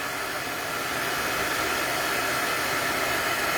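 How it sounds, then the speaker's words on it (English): A heat tool blowing over embossing powder on cardstock, producing a continuous loud, close whoosh of hot air with no breaks and no talking. "And so we're just going to heat them up."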